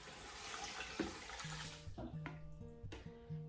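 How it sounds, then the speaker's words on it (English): Cold tap water running into a cooking pot for homemade broth, a steady hissing splash that fades into scattered drips and tonal trickles near the end. "You want to make sure the water you're adding is cold water"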